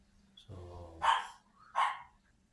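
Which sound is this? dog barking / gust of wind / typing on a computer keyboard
dog barking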